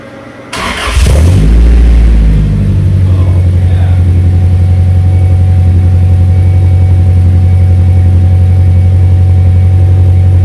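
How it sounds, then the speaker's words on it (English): A car engine with a new exhaust cranks briefly on a cold start, then fires up with a loud bark and settles into a deep, rumbling idle, very close and steady. "I'm gonna try and hit the key again, see if we can get you guys a cold start"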